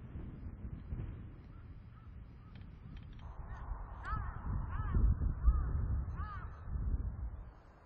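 A crow caws over a spring grassland pasture in the mid-mountain area of Jeju, where roe deer graze. A short series of harsh caws rises over a steady low rumble of wind and ambience.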